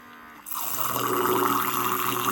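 UNINGOPI water dental flosser on regular mode spraying into a glass, a steady hissing jet that starts abruptly after a quiet moment and continues loud and even.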